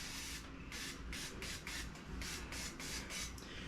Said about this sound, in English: I use coconut oil spray.